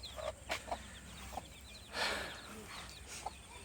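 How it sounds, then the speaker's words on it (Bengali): Baby chicks in a village yard in Brahmanbaria, Bangladesh, give quick, faint high peeps and soft clucks, with a few louder knocks and a brief rustling burst in a quiet outdoor setting. "এটি চাও মানে বাচ্চা মুরগি চাও"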